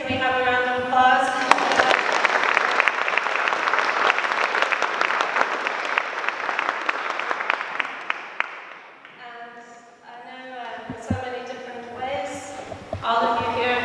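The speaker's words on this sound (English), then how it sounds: "can we have a round of applause?" Guests at a charity tree art sale and auction in a London church give sustained applause for the artists, a dense crowd clapping for several seconds, framed by a speaker talking before and after.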